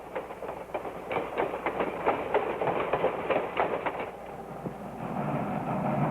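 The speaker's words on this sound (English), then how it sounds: "a 130-ton Sierra type Baldwin Mallet built in 1934" A 1934 Baldwin Mallet steam locomotive, 130 tons, hauls a log train past with rhythmic clickety-clack of wheels on rails and a low rumble, then fades to a steadier mechanical hum.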